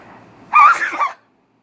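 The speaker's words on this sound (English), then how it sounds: "Hold on, gotta sneeze." A single sharp sneeze bursts out close and loud after a brief quiet breath, then silence.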